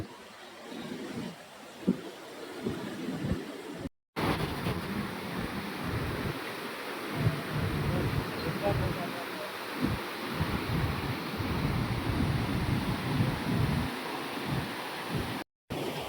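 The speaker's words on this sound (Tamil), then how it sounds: "தண்ணி செம்மையா போகுது" Water rushes steadily through the Thenperambur dam where three rivers are divided, a broad continuous roar mixed with wind buffeting the microphone and a brief dropout.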